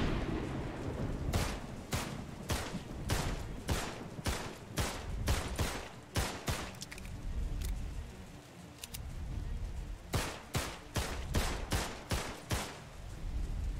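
Sharp gunshots in a video game ring out in rapid bursts, a steady run of evenly spaced shots, a pause with rumbling, then another quick volley.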